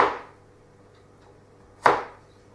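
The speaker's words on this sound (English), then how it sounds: "Turn the cut side over and then keep cutting the slices into 1/2 centimeter" A knife chopping food into small pieces on a cutting board for burritos, with two separate solid chops, close and clear, about two seconds apart and quiet in between, with no talk.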